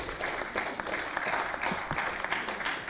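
A public meeting audience breaks into steady, dense applause that fills the room continuously from start to finish, fairly close and loud, with no voices standing out above the clapping.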